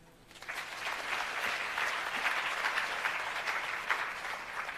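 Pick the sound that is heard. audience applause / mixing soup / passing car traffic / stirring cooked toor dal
audience applause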